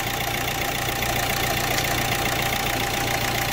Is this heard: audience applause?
no